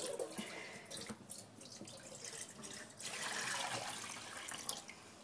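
Water from a tap runs and splashes into a dog's water bowl, a steady close pour that swells louder partway through, with no talking.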